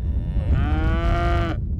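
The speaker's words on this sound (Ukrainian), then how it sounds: "Посуха змусила Келісона продати майже половину його корів" A single drawn-out moo from cattle on a drought-hit Texas farm, clear and fairly close over a low rumbling background of wind or handling noise.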